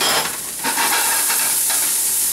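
Chickpeas toasting in a little oil in a pan, a steady loud sizzle with stirring scrapes running throughout, close up and without talk.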